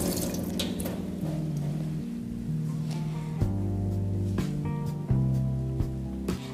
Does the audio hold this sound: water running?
yes